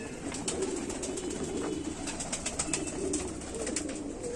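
Pigeons cooing at a loft, a steady murmur of soft low coos from several birds, continuous and fairly close, with no voices.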